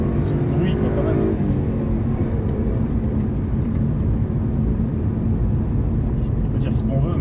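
A stock Hyundai Coupe V6 FX engine runs loud and steady, close by, a dense rumbling roar whose pitch shifts slightly near the start, then holds throughout.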